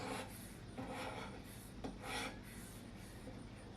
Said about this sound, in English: so what I like to actually do is deburr it.